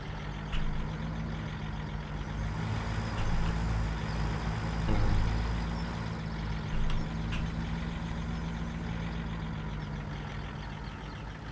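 Trucks driving along a road in Farming Simulator 17, a steady low engine drone with a broad rumble running throughout, fairly constant in level with a slight swell midway and no talk over it.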